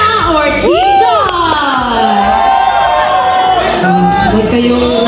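A wedding crowd cheers loudly and close, with shrill whoops and rising shouts from many voices blending into a lively roar that carries on throughout.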